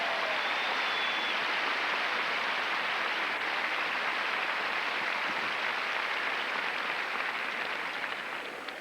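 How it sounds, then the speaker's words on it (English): Large audience applauding at the opening ceremony of the 1989 Olympic Festival in Oklahoma: a dense, steady wash of clapping that holds at an even, loud level throughout and thins only slightly at the end. "I think we should all give them a round of applause right now."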